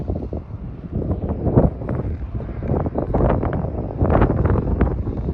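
Gusty wind roars across the microphone near a parked van by the road, loud and uneven, with heavy low rumbling surges that rise and fall.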